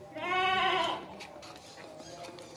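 A long-eared goat lets out a single loud, wavering bleat lasting under a second, close by, followed by quieter livestock background noise.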